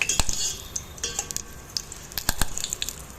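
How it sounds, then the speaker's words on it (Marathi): Hibiscus petals fry in hot oil for homemade hair oil, with a steady sizzle broken by sharp crackles and pops, plus occasional clinks of a utensil stirring the pan. "आणि ह्या जास्वंदीच्या पाकळ्यातला अंश हे सगळं पूर्णपणे उडून जातं आहे त्याचा चुरचूर चुरचूर आवाज येतो"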